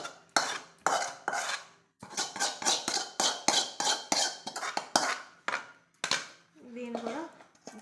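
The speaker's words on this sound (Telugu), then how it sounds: "దీన్ని కూడా ఒకసారి కలుపుకుందాం." A spoon stirs and scrapes through thick amla pickle mixed with tamarind paste in a metal pot, giving a loud, rapid run of clinks and knocks close by, then a short pause.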